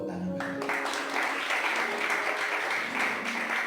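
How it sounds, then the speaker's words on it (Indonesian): A church congregation breaks into applause during a Sunday worship service, a full, steady clapping that starts abruptly after a brief musical note and continues evenly to the end. "Yuk tepuk tangan."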